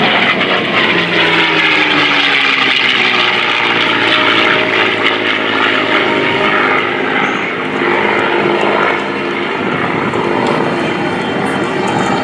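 A P-51 Mustang propeller fighter flies at the 2016 AirPower Over Hampton Roads air show, its piston engine droning loud and steady overhead, rising and easing slightly as the plane passes.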